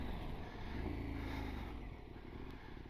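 A KTM 1290 motorcycle ridden through West Yorkshire gives a steady, full-bodied engine drone that holds even for the whole stretch, with a slight rise and settle midway and no talking.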